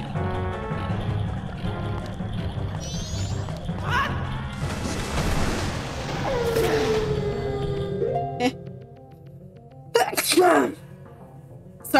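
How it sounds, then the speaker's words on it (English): A single sharp sneeze from a person, bursting out loudly near the mic over background game music and sound effects, followed by a few clattering thumps. "Sorry, I sneezed."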